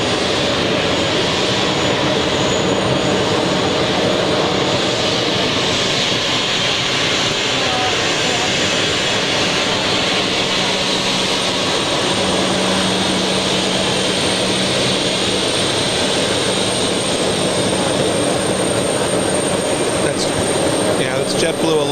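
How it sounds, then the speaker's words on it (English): Jet airliner engines from a JetBlue aircraft roar loudly and steadily at close range on the ground at JFK airport, a continuous broad rushing drone with a faint high whine throughout. "We have JetBlue right now next to us, making all this sound."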